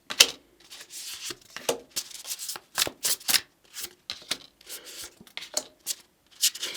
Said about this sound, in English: So let's do some tarot cards.